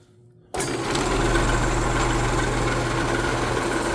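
An electric motor spins a Harbor Freight buffing wheel at about 1,000 RPM for guitar body finishing. It switches on abruptly and settles into a loud, steady hum with a low, even drone throughout.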